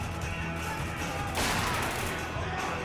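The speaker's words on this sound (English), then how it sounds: "Need a flashbang on those hostiles!" A flashbang grenade goes off in the war shooter Spec Ops: The Line, a sudden bright burst about halfway through that rises over a steady bed of game noise and distant gunfire.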